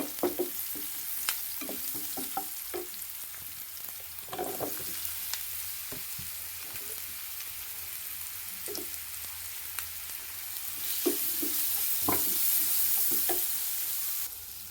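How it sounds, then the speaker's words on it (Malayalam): Chopped, cooked plantain being stir-fried with chilli powder in a pan, giving a steady low sizzle broken by scattered scraping stir strokes, a little louder toward the end, with no talking. "ഇനി ഞാൻ അരിഞ്ഞു വെച്ച് വേവിച്ച് വെച്ച കായ ഇടാൻ പോവുകയാണ്"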